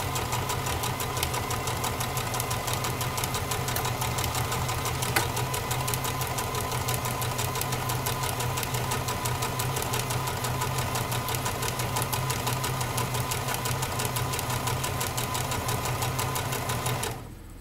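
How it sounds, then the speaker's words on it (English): Sewing machine running steadily, a continuous fast mechanical whir with an even stitching rhythm that lasts throughout at moderate volume and then stops abruptly. "You can actually hear me sew."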